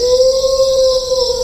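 Jackal howling as a cartoon sound effect, a single sustained wavering tonal howl held steadily for its whole length, clear and prominent over a faint hiss.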